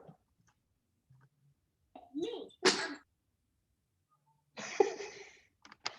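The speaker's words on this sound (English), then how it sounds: "Did you sneeze?" A quiet room with a sharp, explosive sneeze followed by a second one, then a short burst of sound, each brief and close.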